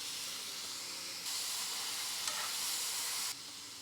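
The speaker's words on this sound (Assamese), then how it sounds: "কেইপিচমান পনীৰৰ টুকুৰা দি দিলোঁ" Pieces of paneer frying in a pan with a little sugar, a continuous bright sizzle and hiss that jumps louder as they go in and then drops back, close and without talk.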